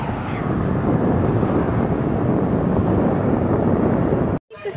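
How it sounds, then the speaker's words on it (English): Steady, loud wind buffeting the microphone with a deep broadband rumble outdoors in Santa Monica, Los Angeles, cutting out briefly near the end. "It's windy"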